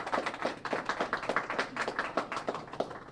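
A modest group in a press-conference room claps after a speech, a short burst of quick, fairly close hand claps in an irregular patter with no cheering.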